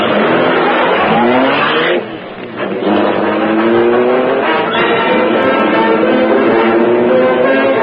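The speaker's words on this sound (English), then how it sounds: "The great car roared into life." A Black Beauty car engine roars to life as a radio drama sound effect, a loud, sustained rev that dips briefly after two seconds, then surges on steadily.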